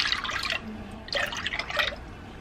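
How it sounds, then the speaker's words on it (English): Fresh pressed apple cider is poured into a pot in two short bursts of splashing liquid, close and moderately loud, with a brief pause between them. "I'm gonna add in 4 cups of cider into the pot."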